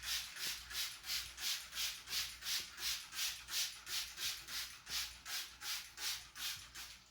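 Rhythmic rubbing strokes of a rag across a sanded wooden furniture surface, wiping it off during varnishing, a steady back-and-forth swish repeating about three times per second, soft and close.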